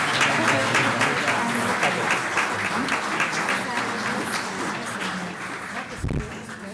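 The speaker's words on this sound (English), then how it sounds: "Let's give them a big round of applause." Applause fills a room at a city council work session, a steady round of clapping from the audience with some talk mixed in and a thump near the end.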